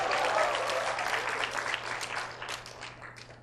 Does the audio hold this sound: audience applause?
yes